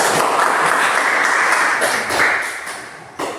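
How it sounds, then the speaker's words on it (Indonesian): A group in a coding and artificial intelligence training class applauds for the first team, a steady, dense patter of many clapping hands that holds for a few seconds before tapering off. "Tepuk tangan untuk kelompok 1."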